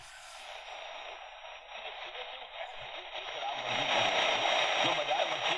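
AM radio on the Prunus J-166 being tuned across the medium-wave band in the evening, a steady hiss of static with faint whines and tones that rises in loudness, with no voices clearly heard.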